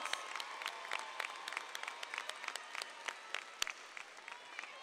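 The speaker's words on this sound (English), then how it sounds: "Give them a round of applause." A high school graduation audience applauds, many hands clapping in a dense, steady patter across a large hall, heard from a distance and fairly faint, with no speech over it.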